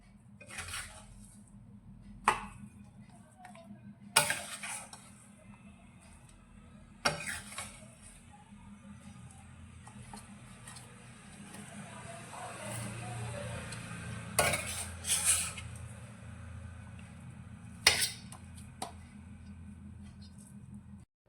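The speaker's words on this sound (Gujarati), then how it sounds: "હવે આપણે જે થાળીને ઘીથી ગ્રીસ કરીને રાખી છે તેની અંદર આપણે આ મિશ્રણને લઈ લઈશું" Rajgira sukhdi mixture is scraped from a pan into a ghee-greased steel plate, with scattered sharp metal clanks and scrapes over a low steady kitchen hum, quiet between a few louder knocks.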